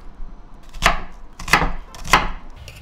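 Green onion being chopped on a cutting board with a knife, three crisp separate thuds spaced about half a second to a second apart, close and clear, no talking.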